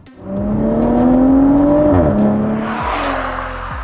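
A BMW M340i's 3-litre inline six-cylinder turbo petrol engine revs hard and loud toward 7,000 RPM, pitch climbing then dropping through a gear change, with tire squeal and a throaty exhaust roar.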